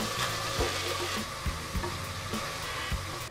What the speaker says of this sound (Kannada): ಈರುಳ್ಳಿ ಫ್ರೈ ಮಾಡೋದಕ್ಕೆ 5 ನಿಮಿಷಕ್ಕೂ ಹೆಚ್ಚಿನ ಕಾಲ ಬೇಕಾಗುತ್ತೆ